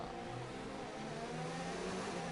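An F1 race car in F1 2019 hums along on lean revs, a steady, moderately loud engine tone with small pitch shifts, heard alone without talk.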